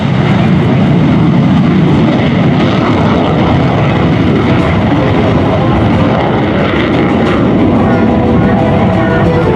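A military jet roars loudly and continuously as it takes off at an air force base open house airshow, a dense broadband engine rush that holds steady throughout.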